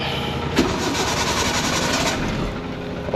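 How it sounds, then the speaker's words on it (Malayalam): An old car with a loose battery contact is cranked and started after the accelerator is pumped, giving a loud, close, steady engine whir and rumble that holds continuously from start to end. "നമുക്ക് ജസ്റ്റ് ഒന്നുകൂടെ ജസ്റ്റ് പമ്പ് ചെയ്തിട്ട് സ്റ്റാർട്ട് ചെയ്ത് നോക്കാം"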